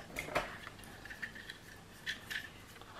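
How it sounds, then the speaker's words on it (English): Scissors trim the paper corners of a Christmas Carol mini album page, giving a few quiet, crisp snips with faint rustling between them in an otherwise hushed room. "I need to cut these corners"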